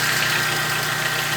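A Volkswagen Gol G4 engine running with a strange noise, a steady close-up idling drone with a faint knocking vibration and a thin high whine, no voices.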